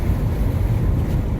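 Strong wind buffeting the microphone outdoors near a 1964 Dodge D100 short bed pickup, a continuous low rumbling roar that stays loud and steady across the whole moment, with no talking.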